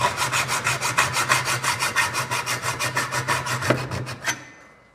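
A hacksaw cuts through metal trunking in quick, even back-and-forth strokes, about five per second, close and clear, slowing to a final stroke before stopping.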